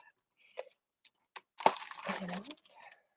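Packaging of a paper craft card kit holding cardstock and embellishments being opened, heard as a close burst of crinkling and tearing paper or plastic lasting about a second, with brief rustles around it and speech nearby.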